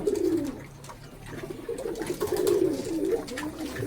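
Pigeons in a loft, many of them moulting, cooing close by in repeated rolling, throaty phrases that rise and fall over a few seconds.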